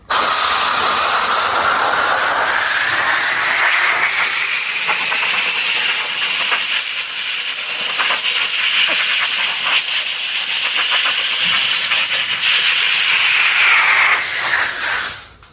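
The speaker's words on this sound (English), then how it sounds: "the best thing for this is just a air compressor. So we can just take it and blow it and we'll take all the moisture out of the fur" An air compressor blows a steady, loud, close hiss of air through damp fox fur, unbroken for about fifteen seconds before cutting off abruptly.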